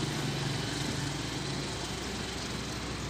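A Hino New RN285 engine idles in an SR2 HD Prime tour bus by Laksana, a steady, even diesel drone with a constant low rumble and no other sounds.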